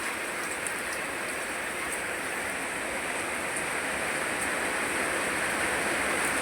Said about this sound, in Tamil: சரியான மழை வருதுப்பா இங்கே பாருங்கள் மழை